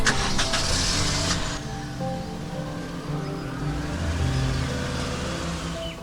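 A car is boarded and driven off: a brief bright whirring or door-and-seat noise at the start gives way to a steady low engine and road rumble that continues throughout, with no talking.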